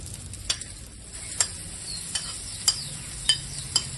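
Stuffed bitter gourd is stirred with leftover masala in a pan: a low, steady sizzle punctuated by about six sharp metallic scrapes and taps of the spoon at irregular intervals, close and without speech.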